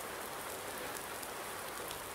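Steady, even rain in the farming video game Farming Simulator 19, a constant soft patter of drops on surfaces at moderate, unchanging loudness.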